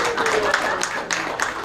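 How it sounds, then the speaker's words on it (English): An audience applauds for a birthday celebrant at an 80th birthday party, with steady clapping close by and voices talking over it. "Let's give her a round of applause"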